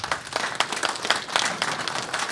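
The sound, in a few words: audience applause for the speaker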